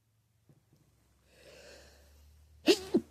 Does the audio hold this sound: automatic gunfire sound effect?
no